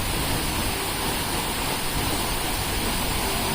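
A jungle waterfall roaring steadily: dense, continuous rushing water, loud and close, with no break or other sound standing out.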